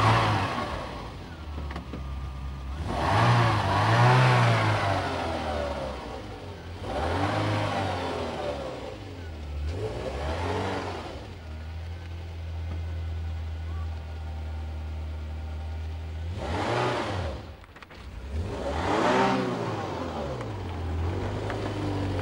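A Ferrari Mondial Cabrio engine revs up and falls back again and again, with loud, sweeping rises and drops between stretches of steady running. People talk over it at times.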